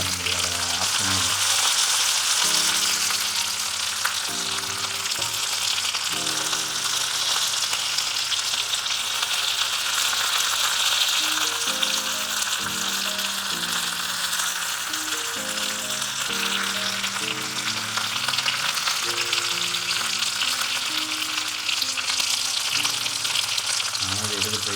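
Big rock fish frying in coconut oil in a pan, a steady loud sizzle running throughout, with faint music-like tones underneath.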